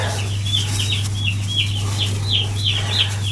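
Many day-old broiler chicks peep in quick, high chirps, overlapping continuously over a steady low electrical hum.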